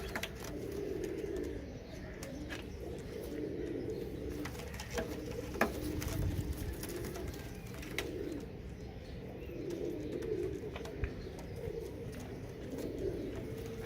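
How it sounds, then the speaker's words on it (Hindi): Soft, low pigeon coos repeat in overlapping phrases from a nearby flock of teddy pigeons, with a steady outdoor hum and occasional faint chirps behind them. "ये इतने सारे एक साथ कबूतर खड़े हुए हैं"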